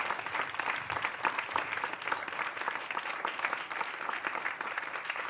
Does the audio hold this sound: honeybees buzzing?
no